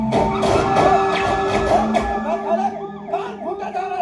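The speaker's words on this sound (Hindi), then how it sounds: "तो ये सायरन की बत्ती बुझानी है" A loud, wailing siren with warbling tones fills the clip, with a harsh broadband blare early on and voices faintly mixed in.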